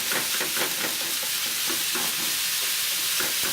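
Ground turkey and onions sizzle steadily in a hot pan while a utensil scrapes and breaks up the meat, with soft clicks and scrapes over a continuous frying hiss and no talking.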